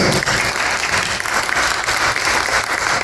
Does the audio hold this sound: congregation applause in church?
yes